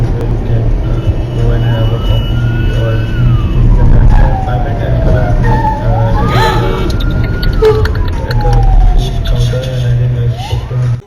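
An ambulance carrying a patient wails its rising and falling siren through busy traffic on Bengaluru's Electronic City flyover, heard over road noise while a voice talks throughout.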